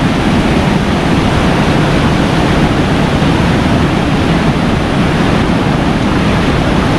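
A river waterfall gives a dense, roaring rush of falling water that fills the space continuously at high volume, steady and unbroken from start to finish with no voices audible.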